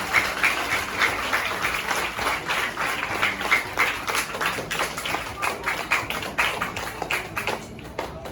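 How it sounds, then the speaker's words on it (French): An audience at a reading day event applauds warmly and continuously, a dense steady patter of clapping heard from within the room. "Applaudissez, s'il vous plaît."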